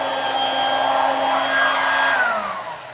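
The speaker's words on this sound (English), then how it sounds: "It's a little vacuum." A small handheld vacuum cleaner runs close by with a steady high motor whine, then winds down as its pitch slides lower near the end.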